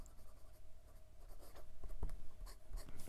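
Fountain pen with a bouncy 14-karat gold nib scratching across paper, a faint, close, irregular scritching of strokes and small taps, soft and alone with no talk.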